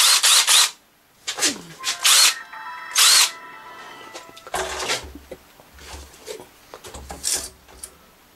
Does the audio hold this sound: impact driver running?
yes